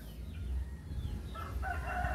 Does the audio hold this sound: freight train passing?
no